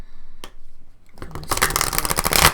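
Oracle cards being shuffled by hand, a dense run of rapid papery riffling and flicks that swells loud in the second half after a few quieter taps.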